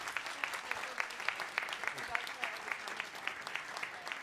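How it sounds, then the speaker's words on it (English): An audience applauds at a talk during the A MAZE. Berlin 2025 games festival: dense, sustained clapping from a crowd, fairly loud and even throughout. "Then I want a round of applause."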